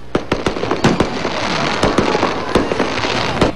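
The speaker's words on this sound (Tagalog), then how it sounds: "nagtapos sa pamamagitan ng isang engrandeng fireworks display" Fireworks at the Sinulog Festival in Cebu fire off as a quick series of loud, sharp bangs and cracks, around a dozen bursts in under four seconds, over a crackling roar.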